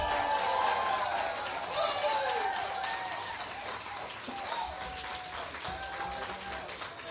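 A round of applause from the audience at an awards banquet, with broad clapping that swells at the start and gradually thins out while a voice speaks over it.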